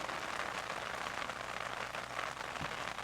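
Steady rain falls outside, a continuous, even hiss of drops on surfaces with no pauses or voices.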